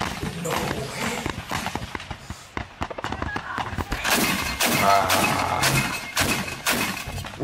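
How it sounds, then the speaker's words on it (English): Drones are shot down in the sky over Pandanwangi beach in Lumajang: scattered sharp bangs and crackling bursts that grow denser and louder toward the end, heard from a distance. "That's another drone shot down."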